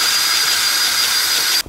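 A cordless drill whirs steadily at high speed, spinning a painted surface for spin art with black paint, loud and close, then cuts off abruptly near the end.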